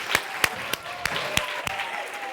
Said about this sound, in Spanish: Un aplauso muy fuerte para todos